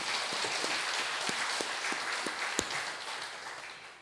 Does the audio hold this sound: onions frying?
no